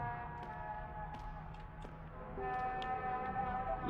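A train rumbles past in a video game, a steady low roar with a horn-like tone rising near the end, heard fairly faintly beneath someone talking.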